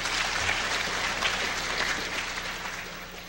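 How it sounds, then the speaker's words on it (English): Audience in a DEFCON lockpicking and physical security talk breaks into dense, sustained applause filling the room, gradually tapering off toward the end. "There, now you can applaud."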